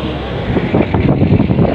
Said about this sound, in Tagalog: Hangin tugi kaayo.